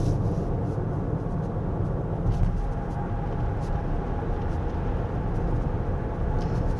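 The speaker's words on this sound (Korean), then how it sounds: "노면 바닥이 콘크리트인 편도 1차선 터널 안에서 이 차의 소음 특성 한번 보겠습니다" Road noise inside the cabin of a 2023 Toyota Highlander Hybrid Platinum driving through a single-lane tunnel with a concrete road surface: a steady, low, rumbling drone with a faint hiss, even throughout and with no talking.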